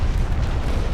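A continuous heavy rumbling boom from 10-inch shells striking a warship in the Ultimate Admiral Dreadnoughts naval battle game, loud and close, filling the whole moment with deep roaring noise.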